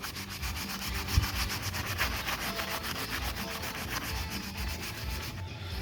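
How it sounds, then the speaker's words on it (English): Sandless paint stripper being rubbed by hand onto a painted surface, giving a steady, close, continuous scrubbing rasp with rhythmic back-and-forth strokes and no talking. "So then you rub a bit more in."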